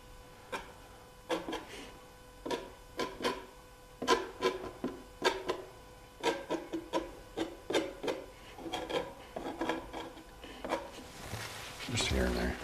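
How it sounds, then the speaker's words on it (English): A tool scrapes across a surface in a studio in a series of short, rasping strokes with uneven rhythm, close and fairly quiet, with a brief burst of noise at the end. "You can also scrape in some of these like this."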